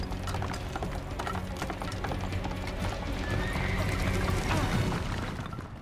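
In the Prince of Persia: The Sands of Time video game, a horse clip-clops along in steady, rapid hoofbeats and lets out a neigh, all layered within a dense game soundscape.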